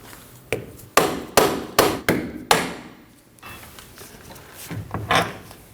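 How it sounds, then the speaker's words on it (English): A dead blow hammer strikes the rear CV axle stub on a 2003-2006 Subaru Baja 2.5L H4 to free it from the hub: five sharp, loud thuds in a fairly even rhythm, then a few softer knocks and clanks. "Using a dead blow hammer, I'm going to hit the end of the axle stub to try to free that up from the hub."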